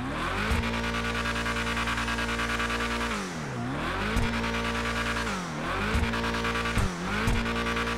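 A tuned Hot Wheels car in GTA V Online roars steadily at high revs, with repeated gear shifts and pitch drops as it accelerates and brakes, loud and continuous without talk.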